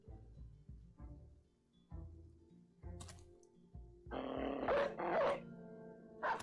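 Dog barking in a strategy video game, a short run of sharp, fairly loud barks and growls over game sounds and clicking, with no talk.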